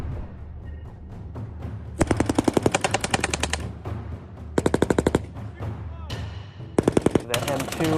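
Bursts of 7.62 mm machine-gun fire from an M240B during a soldiers' weapons qualification range at Camp Ripley, with three rapid, evenly spaced strings of loud shots separated by pauses, under ambient range noise.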